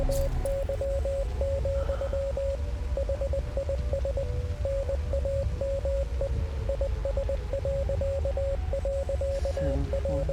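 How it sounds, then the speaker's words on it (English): Morse code beeps from the Hell Is Us video game: a steady single-pitched tone keyed in short and long pulses runs throughout over a constant bed of static and low hum. "Morse code."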